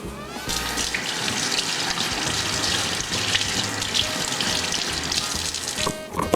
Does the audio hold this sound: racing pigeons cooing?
no